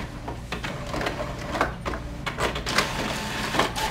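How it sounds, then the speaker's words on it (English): Inkjet-style printer running at best quality while printing pictures onto tissue paper; a continuous mechanical whir with repeated sliding and clicking carriage passes, close and steady, with no voices. "let's start to print"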